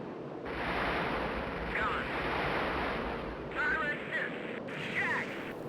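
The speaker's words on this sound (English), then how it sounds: "Rocket barrage." Rocket barrage from a jet in flight simulator Strike Fighters 2 pounding a ground target, a continuous roaring wash of jet noise with a few dull impact thumps rolling in, under a speaking voice.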